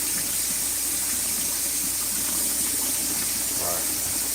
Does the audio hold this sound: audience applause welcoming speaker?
no